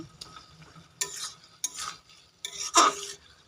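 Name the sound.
stirring cooked greens with coriander leaves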